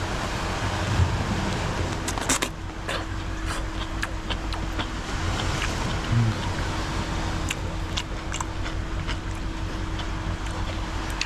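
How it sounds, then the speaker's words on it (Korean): Wind blowing outdoors by the sea on Ulleungdo island: a steady, fairly loud rush with buffeting on the microphone and scattered faint clicks and knocks throughout. "지금 바람 불긴 하는데"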